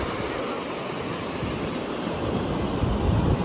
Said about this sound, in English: It's like the water wants to get rough, man.